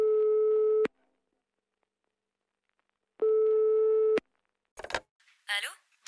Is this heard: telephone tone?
yes